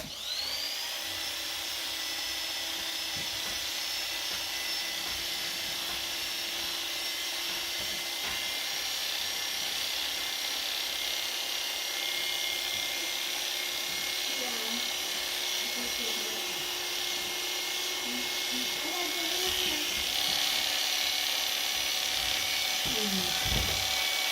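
Electric hair clippers trimming hair, a steady high-pitched motor buzz running continuously and close, with small shifts in tone as the blades move through the hair.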